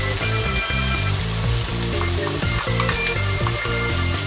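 Carrots sizzle in a frying pan for bolognese, a close, loud and continuous frying hiss with steady stirring, with a rhythmic mechanical hum underneath.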